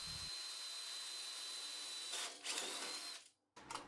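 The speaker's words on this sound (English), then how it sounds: "I mark out the position where I need to put a couple of holes and then I can get them drilled out" A power drill boring holes into the metal frame of an old bandsaw during restoration: a loud, steady high whine close by that falters, stops briefly, then starts again.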